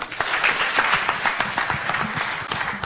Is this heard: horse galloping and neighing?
no